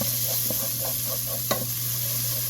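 Onions and garlic sizzling steadily in a pan with black pepper while cooking down for a pizza sauce, with soft stirring scrapes and one sharp clink midway.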